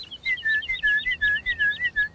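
A person whistles an imitation of a woodlark's song, a series of clear, repeated looping phrases in a quick, even rhythm, close and distinct with nothing else behind it.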